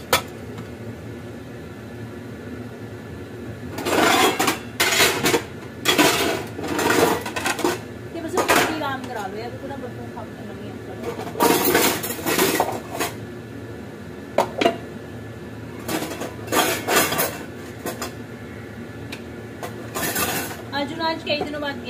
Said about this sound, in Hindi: बर्तन साफ कर लेती हूँ तब तक थोड़े से।